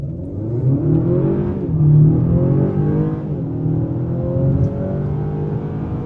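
Acura RDX SH-AWD A-Spec in Sport Plus mode accelerating hard, a loud, close engine whose pitch climbs steadily through the gears with brief dips at each shift, heard alone with no voices.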